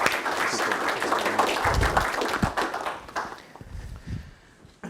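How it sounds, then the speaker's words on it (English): Warm audience applause at a university lecture welcoming a visiting dean, dense clapping that holds strong for about three seconds and then thins into scattered claps as it fades. "Please join me in a warm applause"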